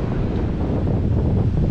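Steady, loud wind roars across the microphone in constant gusty buffeting on the Reykjanes coast of Iceland, with a low rumble that may include distant surf beneath it.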